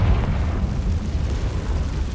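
Spell blasts from Confringo, the explosion charm in the video game Hogwarts Legacy, roar as a dense, continuous low-end rumble with a heavy burst at the start and steady crackling texture throughout.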